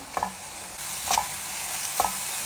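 Ground masala roasting in about two spoons of coconut oil in a pan, a soft steady sizzle with three distinct spoon scrapes and taps against the metal, close and fairly quiet.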